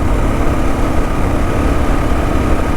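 A Caribou KLR motorcycle engine drones steadily on the road at sunrise, with a constant rumble and wind noise close up and no voices.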